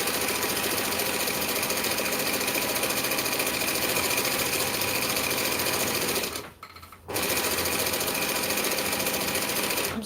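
A cylinder arm sewing machine stitches shade sail fabric in a loud, fast, steady mechanical whir up close, stopping briefly for a moment before running on at the same pace.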